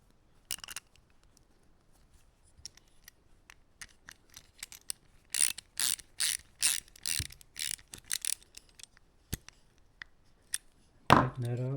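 A cap nut is threaded back onto a True Temper 337 spincast reel, giving quick irregular clicks and ratcheting ticks close up, louder clusters in the middle and a brief voice at the end.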